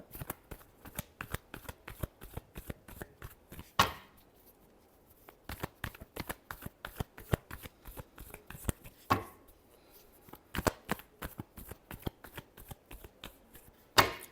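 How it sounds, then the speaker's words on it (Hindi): Tarot cards being shuffled by hand in a long run of quick, crisp riffling flicks, with two brief pauses before the shuffling resumes, close and fairly quiet with no talking. "last shuffle"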